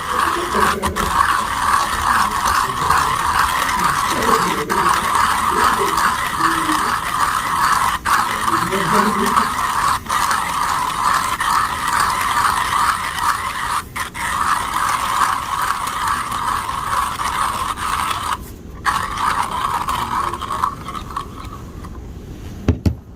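A coffee grinder grinds Starbucks El Salvador Ahuachapan beans with a loud, steady whirring buzz that runs unbroken for most of the stretch, then falters and cuts out near the end.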